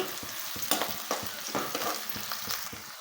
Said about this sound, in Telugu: ఆనియన్ అంతా గోల్డెన్ బ్రౌన్ కలర్లోకి వచ్చేటట్టు బాగా ఫ్రై చేసుకోవాలండి